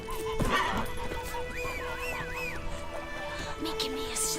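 Geralt's horse Roach in The Witcher 3 gives a whinny amid hoof clatter and game ambience, near and moderately loud, with a brief voice nearby.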